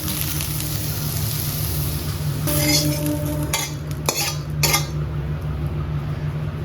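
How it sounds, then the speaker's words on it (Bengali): Soaked chana dal and soybean being fried and stirred in a pan, with steady scraping and clinking of a utensil against metal and a soft sizzle underneath, a few sharper knocks near the end, no talking. "এটা একটু ভেজে নেবো"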